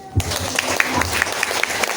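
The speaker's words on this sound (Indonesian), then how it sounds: "Ya, tepuk tangan" Short burst of audience clapping in a room, a scattered patter of hands that starts abruptly and holds steady for a couple of seconds.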